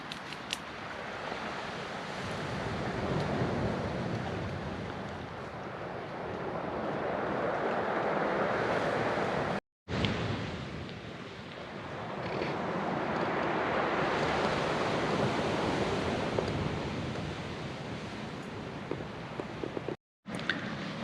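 Sea waves wash onto the shore at a sheltered spot near Pendine, rising and falling in two long, broad swells of hissing surf, with wind rushing over it.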